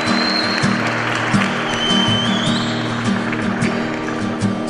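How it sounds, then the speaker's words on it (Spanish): Dense, sustained applause for teachers at an insignia ceremony fills the space, loud and continuous, with a faint whistle rising above the crowd. "Fuerte el aplauso para los docentes."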